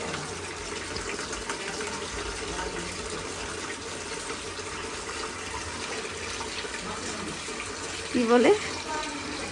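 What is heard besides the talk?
water running into a bathing bucket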